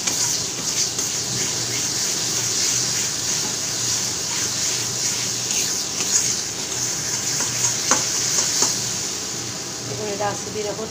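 Green banana mash being stirred and fried in a pan, a constant sizzle with scraping spoon strokes and small clicks against the metal, heard under a voice talking throughout.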